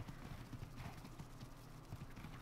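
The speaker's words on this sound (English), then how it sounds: "Oh my gosh, horses" Horses (equus) galloping in the video game ARK: Aberration, a steady rapid clip-clop of hooves close by that runs the whole time over a low rumbling game background, with no talk.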